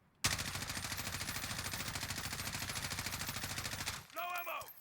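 Sustained rapid automatic gunfire from a modded weapon in a video game, a loud, dense and steady burst lasting about four seconds before stopping abruptly, followed by a brief electronic whine.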